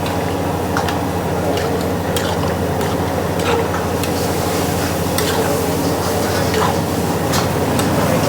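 Egg rice with gravy, tomato paste and egg is stirred in a sizzling pan. A steady loud frying hiss runs throughout, broken by repeated sharp scraping clicks of the spatula against the metal.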